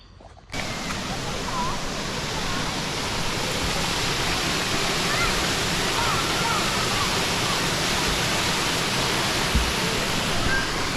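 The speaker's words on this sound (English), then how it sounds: "looks like the water's flowing pretty good." Water pours steadily over a creek waterfall in the Ozarks, a loud continuous broadband rush that begins abruptly and holds at an even level throughout, with no voices heard.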